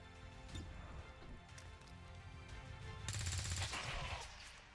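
Gunfire in the video game Long War 2, a burst of rapid automatic shots, fairly faint, rising midway and then trailing off, with no talk.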